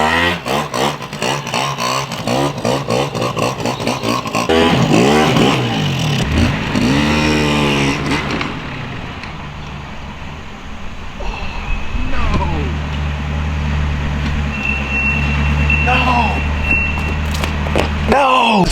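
An old barn-find quad ATV that sat abandoned for eight years runs while being ridden, its engine droning and revving unevenly, rising and falling, with a voice talking over it.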